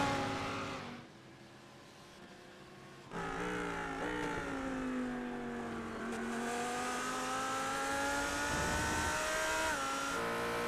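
A Ford GT3 race car in a racing game accelerates hard, its engine note climbing steadily through the gears as a loud continuous roar, with other cars audible behind it.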